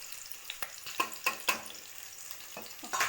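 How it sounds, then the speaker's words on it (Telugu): Ginger garlic paste frying in oil for a fish curry, a soft sizzle broken by several sharp spatula scrapes and stirring clicks against the pan, close and fairly quiet. "ఇది బాగా ఫ్రై అవ్వాలి. పచ్చి వాసన పోయేదాకా ఫ్రై అవ్వాలి."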